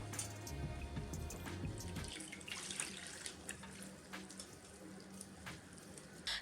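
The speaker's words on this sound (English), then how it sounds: "Rinse it with cold water to remove any vinegar flavor" Cold tap water runs steadily over freshly strained chenna, a close, continuous splashing stream with small drips and splatters, no voices.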